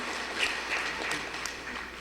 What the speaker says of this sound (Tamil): எல்லாரும் நல்லா இருக்கணும்னு ஒரு கைத்தட்ட